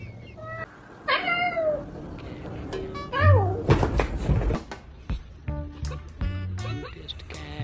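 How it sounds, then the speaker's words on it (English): A cat meows a few times amid background voices and clatter, with bright, wavering calls standing out over the noise. "Cutest cat."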